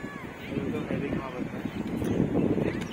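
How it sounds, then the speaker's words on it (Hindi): Strong gusting wind buffets the microphone in Nirankari Sarovar Park in Burari, Delhi, as a rough, continuous low rumble. Someone talks over it. "बहुत ही तगड़ी हवा चल रही है भाई"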